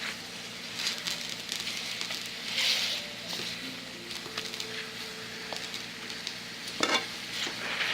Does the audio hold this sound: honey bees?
no